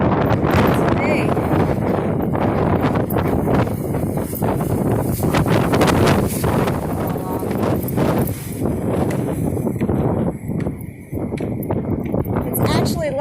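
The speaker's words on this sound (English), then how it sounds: "It's actually less windy up here than it is down there." Strong hurricane wind on Roatan island roars and buffets the microphone continuously, with rustling, sloshing water nearby and people talking underneath.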